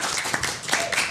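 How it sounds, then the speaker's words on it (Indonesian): Several people applaud for two female guests on an Indonesian talk podcast, a dense burst of close, steady hand clapping lasting about a second, with no voices over it. "Jadi kita beri tepuk tangan dulu dong buat dua strong women."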